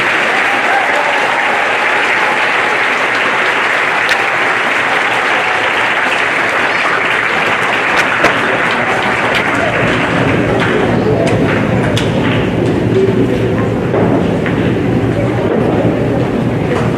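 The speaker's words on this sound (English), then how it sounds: "Let's give them all a big round of applause." Loud, sustained crowd applause at a high school underclass awards ceremony, a continuous roar of many hands clapping for the full stretch, with a few voices mixed in.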